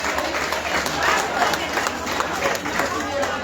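An audience at a welcome and presentation of association members in Labuga, Livingston applauds steadily in a dense wash of clapping, with crowd murmur and voices mixed underneath.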